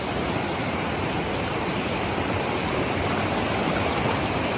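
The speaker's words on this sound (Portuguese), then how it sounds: "É uma parte muito tranquila da cachoeira do Caixote." Cachoeira do Caixote waterfall in Paraty, seen from a shallow, calm part of the falls: a steady, loud, broadband rush of falling water that continues without a break and has no voices over it.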